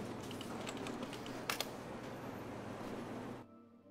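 Typing on a computer keyboard in the game Plan B: Terraform, a quick run of faint, soft key clicks with a couple of sharper taps, ending abruptly.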